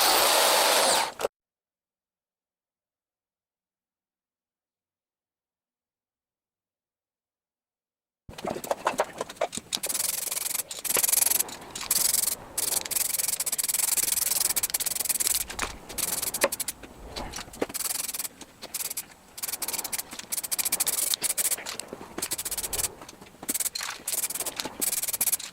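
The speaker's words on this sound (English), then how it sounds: "Now underneath, just wire brushing it" A wire brush scrubs rust from the underside of a scrapyard lawn mower's steel deck, with harsh scratchy rasping in irregular bursts, close and fairly loud, after a brief opening noise and several seconds of silence.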